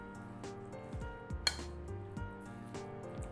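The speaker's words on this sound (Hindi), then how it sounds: "तो इन सबको हम मिक्स कर लेते हैं" Chana chaat ingredients being stirred together with tamarind chutney in a bowl, giving soft repeated clinks and scrapes of a utensil against the dish, one sharper clink midway, over a steady background hum with no talking.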